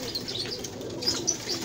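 Old-breed pigeons kept by a fancier coo and chirp softly nearby, with short, quiet bird calls repeating over a low background murmur and no talking.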